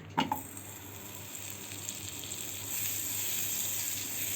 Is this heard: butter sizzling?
yes